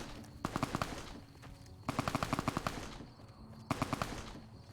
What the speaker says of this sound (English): we're being shot at from like over here